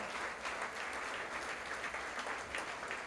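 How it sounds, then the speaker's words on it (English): Sustained applause from a sizable crowd, a dense even patter of clapping holding steady throughout. "please stand up for a well-deserved round of applause"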